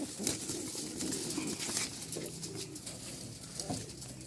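Pigeons of the original Malwai Punjabi breed coo in soft low bursts near at hand, set against a steady background hum and light rustling, with no clear talking.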